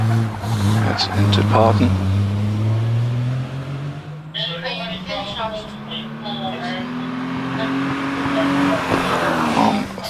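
A 2.5 litre Triumph Special racing car climbs a hillclimb course, its engine note rising and falling through gear changes and easing off before building again, loud and fairly close, with a commentator talking over it.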